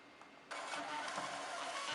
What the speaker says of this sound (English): we're just going to do a test mode on the printer